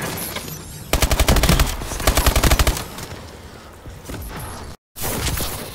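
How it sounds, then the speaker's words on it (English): Rapid bursts of close, loud gunfire in Call of Duty Advanced Warfare multiplayer on Xbox One, two clustered volleys of sharp repeated shots over steady background game noise, then a brief dropout and more firing. "that's gameplay from the M1 Irons pistol, very formidable as you can see"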